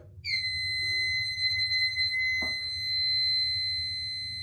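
A fire alarm panel system sounds after a smoke detector is triggered with test spray: a steady, loud electronic tone holds continuously from the start, with a brief click midway.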